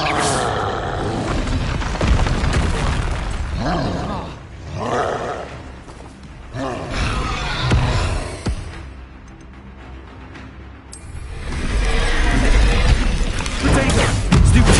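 A Confringo fire spell from Hogwarts Legacy bursts in booming blasts and crashes amid game effects, with a voice shouting over the loud, dense mix.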